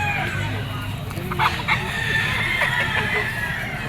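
White Kelso gamefowl rooster, an F1 Firebird line, crowing loudly and close in a long call amid a noisy outdoor yard of other fowl, with background chatter.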